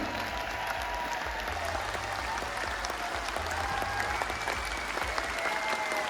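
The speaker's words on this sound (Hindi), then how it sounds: "एक बार जोरदार ताली म्यूजिक के साथ" Audience applause at a Hindi motivational talk, a steady wash of clapping that runs the whole time under loud background music, with no clear voices over it.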